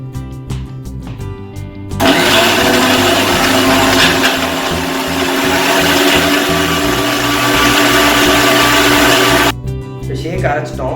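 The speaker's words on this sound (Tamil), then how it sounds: "நெக்ஸ்ட் ஐஸ் கியூப்ஸ் போட்டுப்போம். க்ளோஸ் பண்ணி நல்லா அரைச்சிப்போம்." A blender grinds an Oreo milkshake with ice cubes, a loud steady whirring roar running for several seconds before cutting off, close and dominant.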